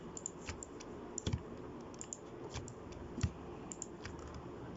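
Computer keyboard keys are pressed for Blender shortcuts while modelling a CFL twisted bulb. The keystrokes come as sparse, quiet, separate clicks over a faint steady background hiss, with no talking.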